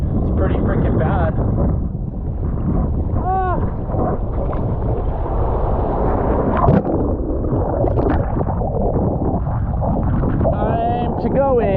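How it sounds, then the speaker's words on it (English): Strong wind roars steadily across the microphone while surfing small waves on a vintage single-fin board, loud and unbroken, with a voice speaking faintly through the buffeting. "The wind is so bad right now."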